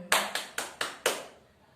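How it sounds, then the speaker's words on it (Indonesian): Classroom applause of only a few people, five distinct sharp claps spaced evenly in a quick row, fairly quiet and close. "Oke, kita berikan tepuk tangan lagi."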